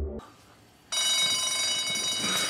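A fire alarm, set off by urine hitting the smoke sensor, suddenly blares a loud, continuous shrill ringing after a brief quiet moment, holding steady to the end.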